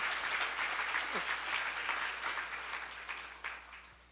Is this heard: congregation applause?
yes